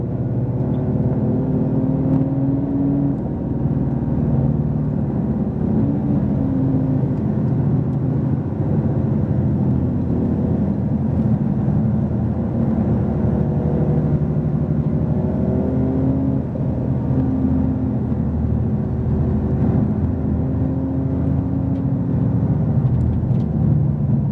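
A Porsche 911 Turbo S on a race track, its engine droning steadily and loudly throughout with a constant whir and rumble, rising and falling slightly as it accelerates.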